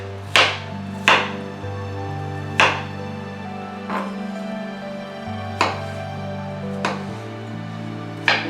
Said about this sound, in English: I take the potatoes, I've already peeled them, so I'm just going to cut these long ways